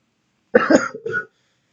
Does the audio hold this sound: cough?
yes